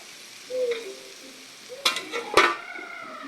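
A spoon stirs sautéed menudo ingredients in a pan, with scraping strokes and sharp clinks against the metal over a soft background sizzle; the stirring comes in short bursts close by.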